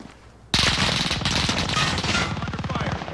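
Rapid automatic gunfire in Call of Duty: Modern Warfare bursts in after a quiet moment and continues as a loud, dense stream of shots to the end.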